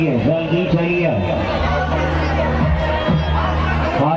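A packed crowd at the Sajgaon village fair, a dense, loud babble of many voices and shouts close around, with nearby people talking over a continuous festive din.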